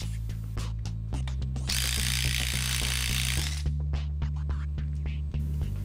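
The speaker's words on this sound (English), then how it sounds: "we will use an impact driver. Tighten bolts until the bolts shear off" Impact driver tightening shear bolts on a medium-voltage cold shrink cable joint connector, a close, steady whirring burst running for about two seconds amid scraping and knocking handling sounds.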